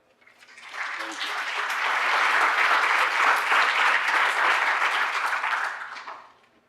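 An audience welcomes Mark Anderson of ConsumerLab with applause that swells from scattered claps into a full, steady ovation and then tapers away, with no talk over it.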